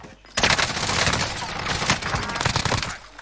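Rapid video-game gunfire in Call of Duty Warzone, a dense burst of shots starting abruptly and continuing steadily at close range, loud and sustained for several seconds.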